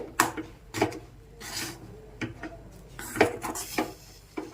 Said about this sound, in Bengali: এবার খুন্তি নিয়ে নিয়েছি এভাবে মিশিয়ে মেখে নিতে হবে